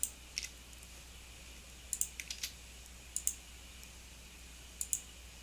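Computer mouse clicking during Photoshop work, sparse crisp close-up clicks, single and in quick pairs, spaced irregularly over a quiet room hiss with no talk.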